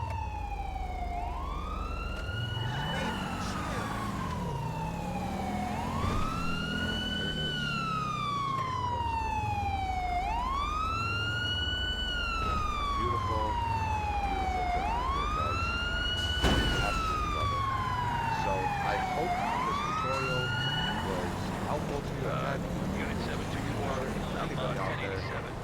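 An ambulance siren in the video game GTA V with the LSPDFR mod wails in long, repeating rising-and-falling sweeps, loud and steady, over a low engine hum, with no speech.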